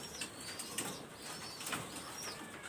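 Pigeons flap their wings in soft, quick bursts inside a coop, faint and fluttering over a steady hiss, with no voices.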